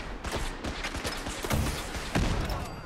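Gunfire in the video game Fallout 4 rattles out in a rapid run of sharp, loud reports, with a few heavier blasts standing out amid a dense barrage.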